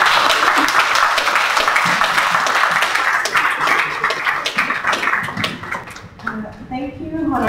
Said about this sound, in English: suggest a round of applause for our distinguished